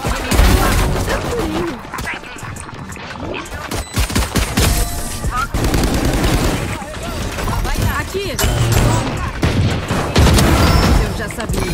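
Rapid bursts of Valorant gunfire, including a shotgun, and booming blasts, loud and frequent, with excited voices talking over the shooting.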